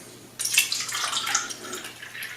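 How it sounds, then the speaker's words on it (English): Kangen water poured into a container of tea drops, a close, continuous trickling splash that starts abruptly and runs steadily for about two seconds. "now let me put the Kangen water into the drops of tea"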